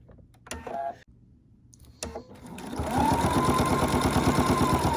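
A home sewing machine stitches binding onto fabric: a couple of short mechanical clunks and pauses, then the motor revs up into a fast, steady rhythmic whir of needle strokes, close and fairly loud with no talking.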